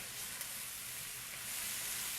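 Mushrooms browning in a pan for hot melt burgers give a steady, even sizzle throughout, with a faint clink near the start and the frying noise swelling slightly toward the end.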